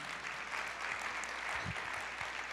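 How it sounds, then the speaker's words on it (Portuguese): Church congregation applauding during a Portuguese-language revival service, a soft, steady wash of clapping heard at a distance with no talk over it. "Pode aplaudir ao Senhor."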